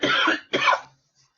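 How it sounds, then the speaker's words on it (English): Two harsh coughs in close succession, near and loud, the second slightly shorter, followed by silence. "I'm going to cough again"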